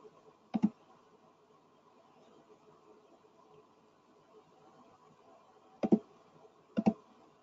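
Sparse keystrokes on a computer keyboard as a number is entered: a quick double click early on, then two more pairs of crisp clicks near the end, close and otherwise quiet.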